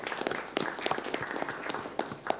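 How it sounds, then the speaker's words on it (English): Quiet, scattered clapping from a school district meeting audience honoring a middle school principal, brief and fairly faint, with individual claps distinct. "Let's give him a round of applause."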